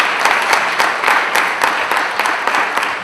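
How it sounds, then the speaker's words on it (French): An audience at a volunteering seminar in Guadeloupe claps, a moderately sized crowd giving a brisk, slightly uneven round of applause that carries on close and loud throughout, with no talking on top. "Vous pouvez les applaudir."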